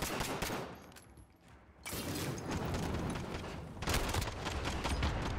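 Heavy gunfire in Call of Duty Modern Warfare fills the moment, a dense, loud barrage of rapid shots with a brief lull before the shooting resumes even louder.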